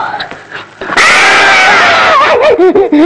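A voice imitating a girl lets out a long, loud, shrill scream, then breaks into wavering wails and shrieks, preceded by a few quiet breathy sounds.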